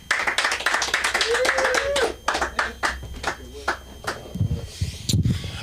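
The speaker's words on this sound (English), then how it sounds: "And clap it up for your host." An audience at a Wacky Wednesday stage show claps for the host, a burst of hand-clapping that is dense at first and then thins into scattered claps and murmuring voices.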